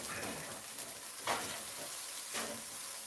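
Fried rice sizzles steadily in a hot pan while it is stirred, with a few brief louder scraping bursts from the utensil against the pan, continuous and close.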